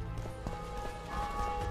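Horse hooves clip-clop in the video game The Witcher 2, a few quick hoof beats set against a steady background murmur.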